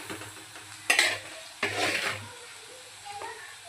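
Chili powder, turmeric, coriander powder and garam masala are sautéed with onions in a pan: a low simmering hiss broken by two sharp scraping stirs and a faint clink near the end, no talking.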